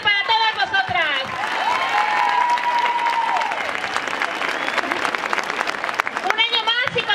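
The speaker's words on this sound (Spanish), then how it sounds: "Un aplauso muy fuerte para todas vosotras" Loud crowd applause and cheering at an International Women's Day march, broad steady clapping with voices and a drawn-out tonal shout rising through it, heard up close.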